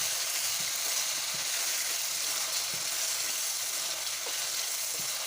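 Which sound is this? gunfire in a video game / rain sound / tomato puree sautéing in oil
tomato puree sautéing in oil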